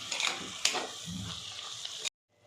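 Shredded cabbage and boiled, mashed potato are mixed in a pan, making soft scraping, stirring rasps over a light sizzle for about two seconds before stopping abruptly.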